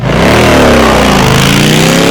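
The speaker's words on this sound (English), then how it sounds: "nothing beats a roaring exhaust" A land speed motorcycle's exhaust roars loudly and continuously, the engine note climbing steadily in pitch as it revs up, close and alone without any talk.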